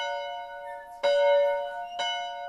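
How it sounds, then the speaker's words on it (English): A church bell in Chippewa City rings out twice, each clear metallic strike leaving a long, humming resonant tail that hangs in the air, with no voices. "The church became the heart of Chippewa City with its bell calling people to worship"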